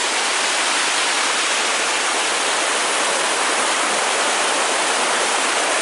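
A waterfall at Chickasaw National Recreation Area in Sulphur, Oklahoma roars steadily, a loud and unbroken rush of flowing water with no other sounds.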